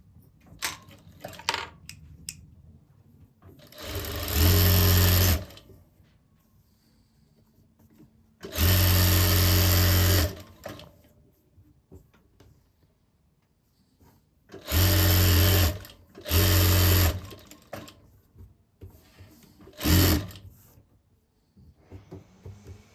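A sewing machine stitches a sleeve-cut blouse in several separate runs of a few seconds each, loud and close, with quiet pauses between the bursts.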